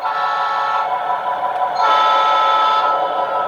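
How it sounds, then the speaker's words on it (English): A Lionel Canadian Pacific model train engine sounds its horn in a steady, loud, reedy chord close by, swelling slightly louder halfway through and holding for several seconds. "We're going to hear the engine's horn."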